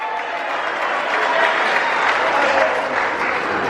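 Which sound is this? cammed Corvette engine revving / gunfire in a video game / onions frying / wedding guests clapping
wedding guests clapping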